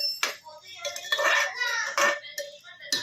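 A metal lid clinks and rattles onto a pot of carrot halwa cooking on the stove, with a few quick, bright metallic knocks close by.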